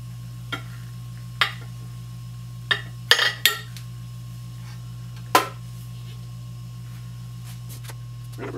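A metal spoon is lifted from a container of hydrochloric acid, giving a handful of sharp metallic clinks and taps spaced out over a steady low hum, close and distinct.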